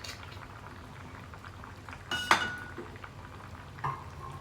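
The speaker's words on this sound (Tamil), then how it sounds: "நல்லா கொதிக்குது" Fish curry simmering in a clay pot, a steady low bubbling and hiss throughout with a brief louder burst of sizzling or spattering near the middle and a smaller one toward the end.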